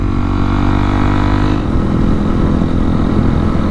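A Honda CRF 250L motorcycle out on off-road trails, its engine droning steadily and close, with a slight shift in pitch midway as the rider works the throttle.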